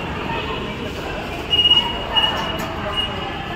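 A metro train runs with a loud, steady rumble, and wheel squeals rise briefly twice midway. People talk faintly under the noise.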